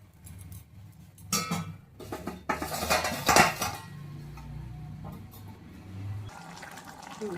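A lid clatters onto a metal cooking pot of mutton curry, with several loud clanking knocks of metal on metal up close, followed by a softer sizzling, bubbling hiss.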